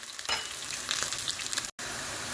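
Mustard seeds and five chopped shallots crackle and sizzle in hot oil as a tempering for mixed spinach kootu. The frying sounds loud and close, with a brief stirring scrape and one sudden cut-off.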